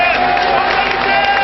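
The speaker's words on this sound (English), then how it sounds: "And there's a cheer for Sunday Elise" Stadium crowd cheering for Nigerian player Sunday Oliseh at the 2000 African Nations Cup final against Cameroon, a dense, steady roar of many voices that fills the whole stretch without a break.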